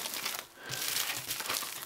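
Plastic bags packing a solar-panel power bank crinkle and rustle close up in a short, quiet burst of handling, brief pause, then more crinkling.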